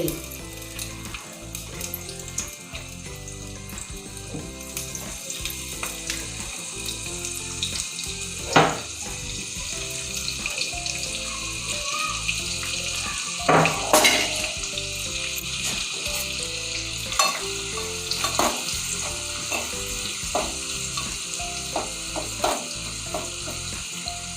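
Garlic tempering sizzles in hot oil while homemade chakli is prepared, a continuous frying hiss with scattered sharp pops, clinks and some watery splashing throughout.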